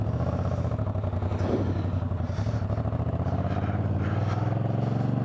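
Moto Guzzi V9 Bobber motorcycle engine while riding, with a steady, loud, throbbing engine drone and some mechanical clatter running throughout, no talk.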